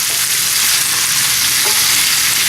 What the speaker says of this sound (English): Mix all this around. It cooks up and tastes so good in a nice big cast iron pan.